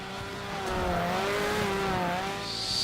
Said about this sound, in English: He's got one hell of a loud goddamn car.